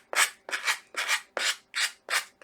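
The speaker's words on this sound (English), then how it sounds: "I'm use my sanding block on here to get off the excess that's on the edges." A sanding block rubs back and forth along the excess on the edges of a wooden home decor piece: six steady, evenly spaced rasping strokes, close and clear with no voices.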